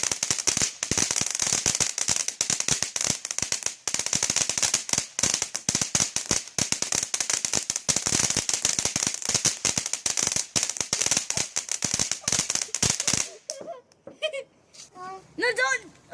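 Bonfire night fireworks and firecrackers crackle and bang in a dense, continuous barrage for about thirteen seconds, then stop abruptly as nearby voices exclaim and talk over the quiet.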